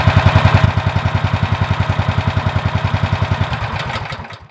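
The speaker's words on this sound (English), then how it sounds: "the unloader valve kicks it out" A gas-powered air compressor engine on a DIY high-CFM build drops back to idle as the unloader valve kicks in near 125 to 130 PSI, a loud, steady chugging that fades toward the end.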